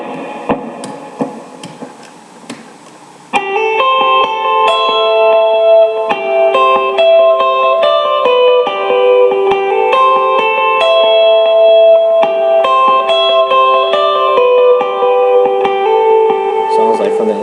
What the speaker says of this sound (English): I stack the MXR compressor, the TC electronic,